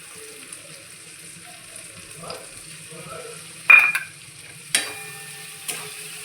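Whisked curd hits a pan of pointed gourd over a low flame, making short hissing sizzle bursts and a few utensil clinks against a quiet background.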